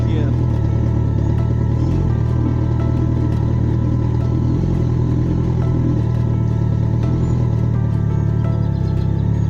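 A motorcycle rolls slowly through village mud in Kenya on the clutch with no throttle, its engine a steady low drone throughout with faint clatter and voices underneath.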